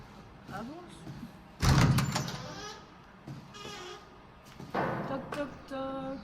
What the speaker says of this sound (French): Il y a des bruits de porte.